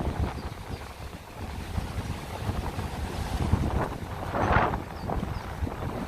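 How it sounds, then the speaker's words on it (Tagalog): Gusty wind sweeps across Maspalomas beach on Gran Canaria, a steady broadband rush buffeting the microphone with a stronger gust near the end, surf faintly underneath. "Di naman malamig, mahangin lang."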